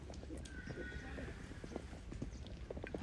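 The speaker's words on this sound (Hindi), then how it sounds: "घोड़ों को पहले हमारे फार्म के अंदर ही कुछ राउंड लगाए जाते हैं ताकि घोड़े रश ना करें" Marwari horses trot warm-up rounds inside a farm before a long ride, hooves clip-clopping in a steady, close rhythm with a brief neigh and voices talking in the background.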